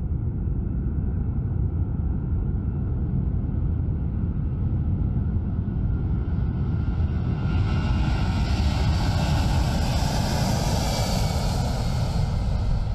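A cargo aircraft powered by four Pratt & Whitney turbofan engines gives a loud, steady jet roar with deep rumble, and a hissing high whine builds in partway through, with no voices.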